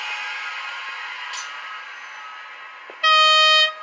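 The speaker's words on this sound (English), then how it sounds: "Pop on the sound decoder, so it's a factory fitted Zemo sound." A Roco HO-scale SNCF Br185 model electric locomotive with a factory-fitted Zimo DCC sound decoder gives a steady hum of running noise, then a loud, clear two-tone horn blast near the end, with no voices.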